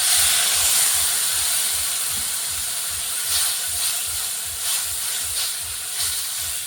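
A little water goes into spice paste frying in oil for a fish curry, raising a loud steady hiss of steam that slowly eases off, with a low regular thumping underneath and a few brief bursts of crackle.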